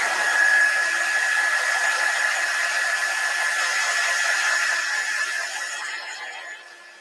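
Hair dryer drying chalk paste on a craft surface, a steady loud close whoosh with a faint whine, running alone and tapering off near the end.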